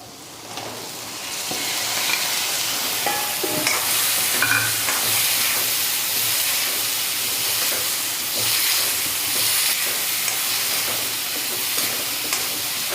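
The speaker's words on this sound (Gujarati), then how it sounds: "એક બે સેકન્ડ આપણે તેલમાં એને ચડવી લઈશું" Cluster beans with turmeric and coriander-cumin powder frying in hot oil, a loud continuous hiss and sizzle with stirring noises underneath, close and unbroken for the whole stretch, with no voices.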